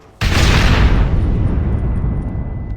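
Charges planted at a gate blow up in Red Dead Redemption: one sudden, loud, close boom that rolls on into a long, rumbling decay.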